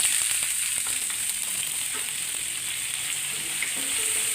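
Onion sizzles steadily in a hot pan while cooking banana flower thoran, a continuous bright frying hiss with a few soft stirring scrapes, close and unbroken.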